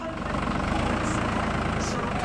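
A tractor engine idles steadily close by at a work site, a continuous low rumble with an even rhythmic pulse and no other sounds over it.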